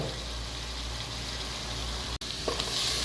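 Onions frying in a pan, a continuous dense sizzle at steady volume, close up, with a short dropout near the end and a faint clink after it, no speech.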